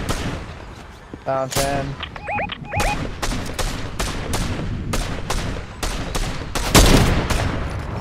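Rapid gunfire bursts crackle through a Fortnite Zero Build squads match, with repeated sharp shots and brief game chimes while players talk excitedly over the action.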